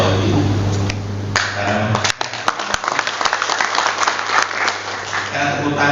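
An audience at a regional congress in Papua applauds, with a dense wash of clapping and sharp separate claps that thin out and then swell again, steady and close.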